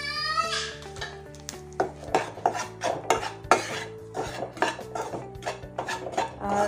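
A utensil scrapes and clinks against a pan as wheat flour is stirred into hot ghee for laddu, with irregular close metallic strokes and a ringing tone early on.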